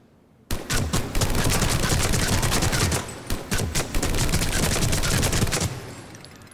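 The Typhoon rapid-fire gun in Mass Effect 3 fires in long sustained bursts, loud dense automatic gunfire with brief pauses between strings, heard alone at close range.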